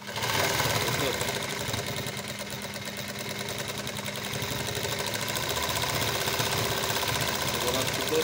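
Cornely embroidery sewing machine stitching continuously, a fast steady mechanical chatter filling the whole stretch at close range, with a person speaking over it.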